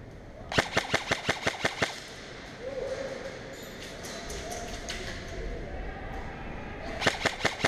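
Automatic gunfire in a first-person shooter video game, rapid bursts of sharp, evenly spaced shots at the start and end with quieter game ambience between.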